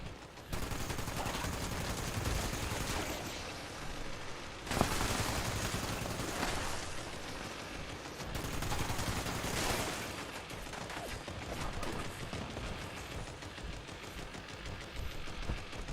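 Two-shot plasma pistol firing repeatedly in Fallout 76, a dense run of sharp energy shots with bursts of heavier blasts, loud and continuous over sixteen seconds with little talk.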